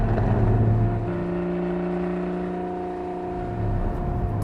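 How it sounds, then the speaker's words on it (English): Steady roar of wind, road and tire noise inside a moving Porsche Cayman GT4, with a low engine drone and a slight shift in pitch partway through. "there's a lot of wind and road noise and tire noise"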